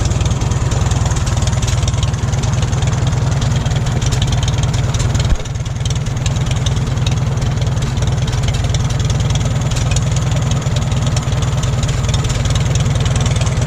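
A 1941 Farmall H tractor engine idling, a loud, close, steady low-pitched chugging with a rapid even pulse, briefly dipping once before settling back into the same rhythm.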